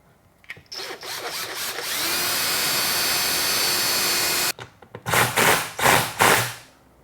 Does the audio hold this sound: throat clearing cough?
no